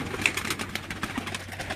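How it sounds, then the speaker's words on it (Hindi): Pet pigeons coo in a loft, with a low, soft, rolling murmur that goes on steadily and faintly under the general room noise, plus a brief higher chirp near the start. "ये कुछ चंद कबूतर हैं उस्ताद जी के"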